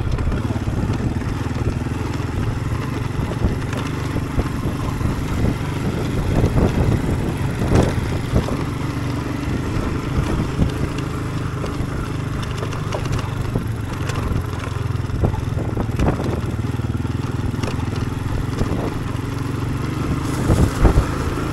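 Honda motorcycle being ridden, a steady, loud engine drone mixed with wind rush that holds continuously throughout, with no clear talk.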